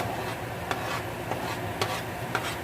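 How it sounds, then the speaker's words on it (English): Sweet onion and mushrooms sauté in a pan with a dense, even sizzle, punctuated by three or four crisp spatula scrapes; nobody speaks. "I'm going to saute this until the onion gets translucent"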